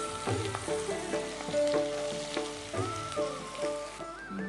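Onion pieces frying in a pan in a TV kitchen, giving a soft, steady sizzle, with tonal music playing over it throughout.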